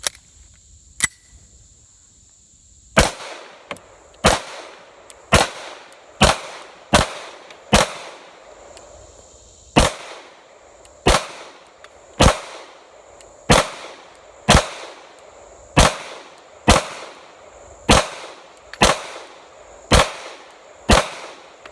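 Beretta 90 Two pistol shots fired at a target about 10 yards away, sixteen or so sharp loud cracks in a steady rhythm about a second apart, with no talking between them.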